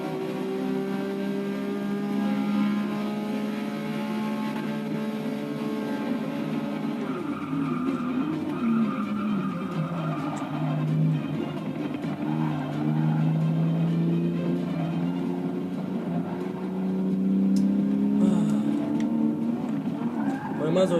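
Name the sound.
Porsche race car driving in video game Forza 6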